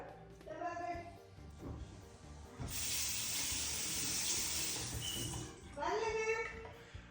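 A kitchen water tap runs in an apartment, a steady rushing hiss that lasts about three seconds, with people talking before and after it.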